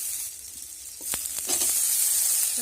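Chopped tomato and onion frying in a pan, a steady close sizzle that swells louder after a sharp clink or two, with faint stirring scrapes and no talk.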